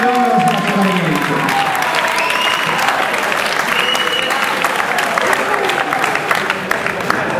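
Sustained applause from a crowd at an awards ceremony for the Spring Cup 2012 tournament, clapping for the referees; steady, dense clapping fills the whole stretch with crowd noise and no spoken words.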